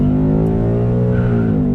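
Ford Mustang GT in drag strip mode accelerating hard during a 60-130 roll, a loud close engine roar with rising harmonics climbing steadily as the revs build, no talk over it.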